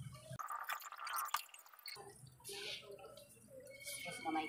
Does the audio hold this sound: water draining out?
yes